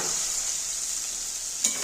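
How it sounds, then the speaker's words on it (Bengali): Onions fry in hot oil in a pan for a mutton curry, a steady close hiss of sizzling with one brief stir near the end. "এবার আমি পেঁয়াজগুলো ভেজে নেব।"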